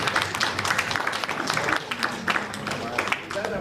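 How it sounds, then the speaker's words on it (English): A live studio or public gathering breaks into applause, a dense irregular patter of many hands clapping close by, mixed with crowd chatter and a voice speaking over it. "that applause because of my age?"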